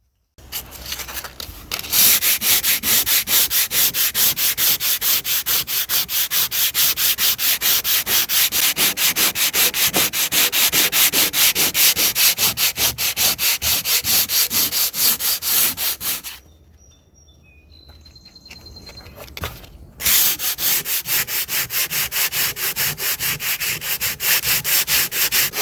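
Steady, loud abrasive sanding against a boat hull runs nearly continuously, broken by one short pause before the grinding rasp resumes at full strength.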